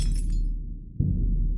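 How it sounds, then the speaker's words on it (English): Glass shatters with a sharp bright crash at the start, followed by low rumbling and a second dull thud about a second later, loud and distorted in poor-quality audio. "the sound of glass shattering is extremely loud with the poor quality of the audio"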